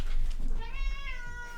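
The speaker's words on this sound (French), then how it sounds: "J'ai mon chat qui me râle dessus." A cat meows grumpily at its owner, one drawn-out complaining meow rising and falling close by, with no speech over it.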